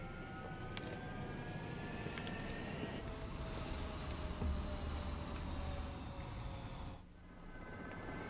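Jet fighters spooling up for takeoff on an Ace Combat 7 runway, a steady loud engine roar with a brief swell near the middle, easing off toward the end.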